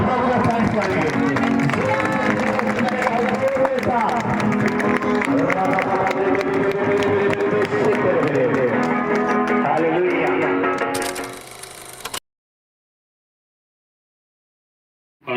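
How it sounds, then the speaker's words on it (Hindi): A church congregation clapping together in thanks to the Lord, a dense, continuous wash of applause with crowd voices mixed in, fading out before silence near the end. "ताली के साथ प्रभु का थैंक्स करेंगे।"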